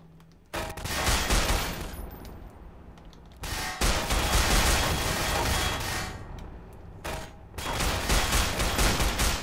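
Sustained gunfire from the video game Estranged: Act 1, loud bursts of rapid shots in three long stretches separated by brief pauses.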